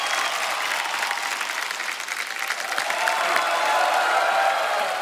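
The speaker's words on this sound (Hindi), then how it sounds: "एक बार जोरदार तालियां हो जाए।" A studio audience at a Hindi TV comedy show applauds steadily, a dense wash of clapping that swells slightly louder partway through and carries on throughout.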